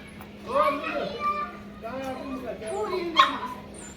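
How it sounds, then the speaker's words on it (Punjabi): A dog barks in the morning with short yips and whimpers, fairly close, while children's voices and other people's talk carry on around it. "ਸਵੇਰ ਦਾ ਟਾਈਮ ਹੈ ਲਿਓ ਭੌਂਕ ਰਿਹਾ"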